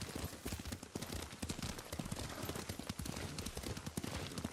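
Rapid hoofbeats of a galloping horse in Ghost of Tsushima drum on in a steady, close rhythm, with spoken dialogue faintly over the riding.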